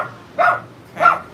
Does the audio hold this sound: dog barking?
yes